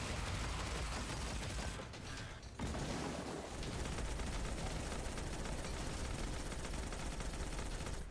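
Machine gun fire in a video game rattles in loud, dense continuous bursts, with a brief break around two seconds before the rapid shooting resumes and runs to the end.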